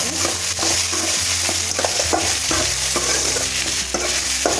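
Diced potatoes for a poriyal fry in a pan while a spoon stirs them steadily, loud scraping strokes over a constant sizzle, with no voices.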